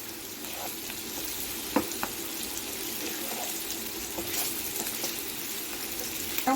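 Bitter gourd curry fries in a pan, a steady close sizzle with a few brief clinks of stirring, and no talk.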